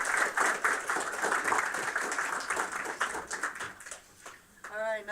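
An audience applauds in a sustained burst of clapping that tapers off near the end, with a voice briefly speaking as it fades.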